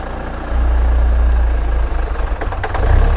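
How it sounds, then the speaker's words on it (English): Diesel engine of a 2013 Hyundai Santa Fe idling roughly and close to stalling, a loud low rumble that surges and sags unevenly, with a few faint clicks near the end and no talk. "It's trying to stall right there. Okay, you can see the engine shaking."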